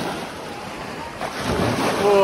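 Ocean waves washing onto a beach on the Istra, a steady broad wash of surf with wind noise, swelling louder toward the end.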